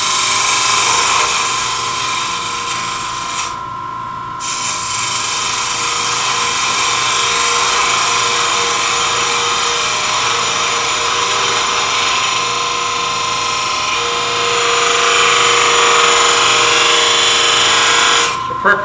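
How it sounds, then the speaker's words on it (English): Shallow fluted gouge shaping a wooden bead on a nesting box lid spinning on a lathe, a loud steady high whine and scraping hiss that drops out briefly near the start, then continues unbroken. "Use a shallow fluted gouge to kind of create a little bit of a"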